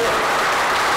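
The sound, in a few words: audience applause in church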